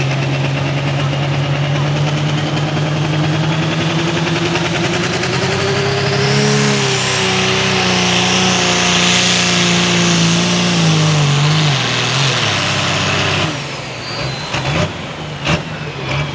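A light limited super stock pulling tractor runs at a Hillsboro, Tennessee tractor pull, its loud engine roaring steadily and climbing in pitch before cutting off abruptly, leaving scattered crowd noise and an announcer's voice.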